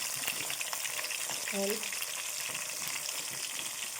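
Fish frying in hot oil, a steady close sizzle and crackle with a brief clink of a utensil; a voice speaks faintly under it.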